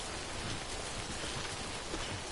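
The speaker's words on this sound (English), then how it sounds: "I'll hide from the rain for a little bit." Steady, dense rain falls in Death Stranding, a continuous broadband hiss of drops on surfaces with no pauses and no voices.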